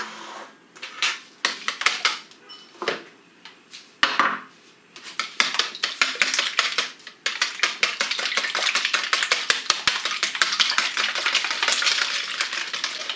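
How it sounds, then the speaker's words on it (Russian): Eggs with salt whisked in a bowl with a whisk, rapid rhythmic metallic clicking against the bowl, starting in short bursts and settling into a steady, fast, close beat. "Добавляю соль. И взбиваю венчиком."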